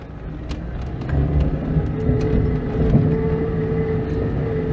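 An Oltcit car engine idles with too much choke, a low steady rumble that rises slightly and holds, with no talking.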